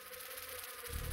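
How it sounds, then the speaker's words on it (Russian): A fly from The Binding of Isaac buzzes in a steady, droning hum, close and continuous over a brief moment. "Просто муха."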